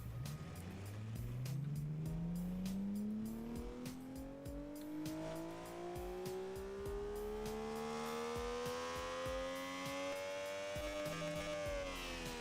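A car engine with its exhaust in the Automation car-building game revs steadily upward for about twelve seconds, its pitch climbing smoothly and dipping briefly at the end, loud and continuous with no talk.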